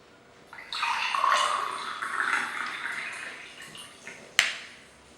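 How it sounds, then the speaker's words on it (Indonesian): Water poured into a glass, a steady splashing stream that swells and then tapers over a few seconds, ending with a sharp clink, heard alone and up close. "Menuangkan Menuangkan air air. dalam gelas."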